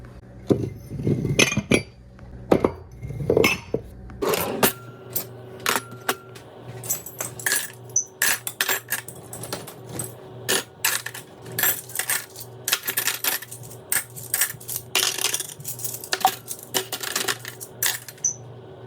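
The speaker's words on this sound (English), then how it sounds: "So I'm going to go ahead and put these dishes away." Dishes and cups are put away in kitchen cabinets, with repeated clinks and clatters of ceramic and glass against shelves and each other, sometimes with a dull bump of a cabinet. The sound is close and busy, with no speech.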